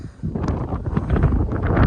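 Strong wind buffets an outdoor microphone in a field where an MTZ 892 tractor is working, a loud, continuous low rumble with gusty swells and no voices.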